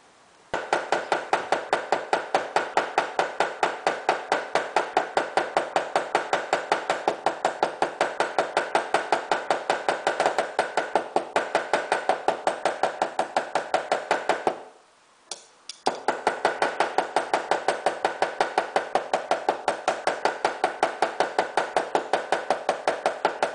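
A small hammer peens the pivot pin of a straight razor during restoration, tapping in a fast, even stream of sharp metallic blows close up, pausing briefly about two-thirds through, then resuming at the same rhythm.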